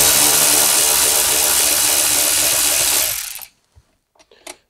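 Tool spinning out 10mm bolts beneath the head unit of a Toyota 4Runner, a loud continuous whirring close by for about three seconds, then stopping, with a few small clicks and taps afterward.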